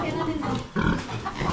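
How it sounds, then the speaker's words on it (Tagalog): Pigs grunting in a farm pen, a run of close, rough grunts and snorts, with a person talking over them. "Ito yung baboy namin."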